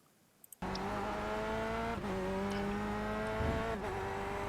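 A Corvette C8R GTE race car in a racing video game on the Daytona road course, engine accelerating at full throttle with a loud steady rising drone, brief gear-shift dips, starting abruptly after a short quiet moment.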